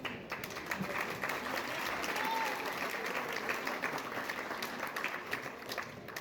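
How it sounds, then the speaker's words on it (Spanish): Audience applause fills a lecture hall after a panel discussion on psychoanalysis and therapies, a steady, moderately distant wash of clapping lasting several seconds with a faint voice briefly underneath. "Un aplauso."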